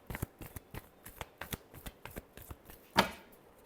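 Tarot deck being shuffled by hand, a quick run of crisp card riffles and taps ending in one sharper snap, close and clear with no talking.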